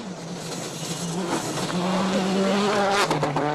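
A rally car works a gravel hairpin at the 2011 Acropolis Rally, its engine note climbing and straining in a loud, steady, rising whine that holds close throughout.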